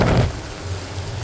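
Heavy rain outdoors as a dense, broadband wash, loudest in a brief opening burst and then settling into a steady low roar.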